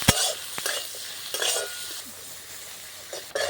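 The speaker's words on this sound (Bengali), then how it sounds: "দিয়ে ভালো করে শুটকিটা ভেজে নেব, তাহলে একটু আর গন্ধও থাকবে না।" Dried fish frying in oil with salt and turmeric, giving a soft hiss with clinks and scraping stirs of a utensil against the pan, heard close and alone.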